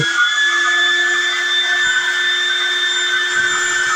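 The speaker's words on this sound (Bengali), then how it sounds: "দেখতে পাচ্ছেন কিভাবে ফ্যানটি ঘোরানো হবে।" A powerful 24-inch airplane-style fan spins steadily, a loud continuous whir with strong, unchanging tonal hum lines throughout.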